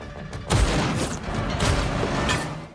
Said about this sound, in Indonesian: aksi tembak-tembakan tidak bisa dihindarkan